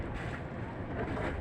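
Wind buffeting the microphone on a boat at sea, a rough continuous rumble and roar, faint overall with a brief faint voice.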